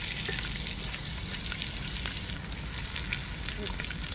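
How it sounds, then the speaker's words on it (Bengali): Sliced onions with cumin seeds and dried red chillies frying in a pan for a home-style chicken kosha, a steady close sizzle running unbroken throughout. "লাল করে পেঁয়াজটা এবারে ভেজে নিতে হবে।"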